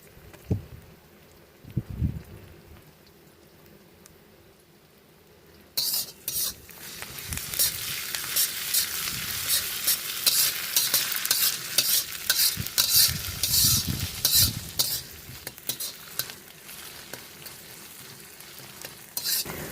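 Ginger-garlic paste hits lightly browned onions in hot oil for a goat-fat ghugni, and a loud, steady sizzle bursts in after a few quiet seconds. A spoon stirs through the crackling pan now and then.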